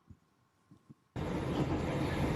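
A Pramex passenger train travels along the line, heard as a loud, steady, broad rumble that starts abruptly after a near-silent opening with a few faint thumps.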